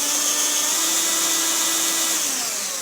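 A high-pitched electric drill whines continuously at close range while fitting a speedometer cable on a Land Rover Defender, its motor pitch dipping slightly toward the end.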